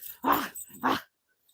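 A happy pet pup growls and rumbles in two close, short bursts, each about a second long, with a brief pause between them and quiet afterward.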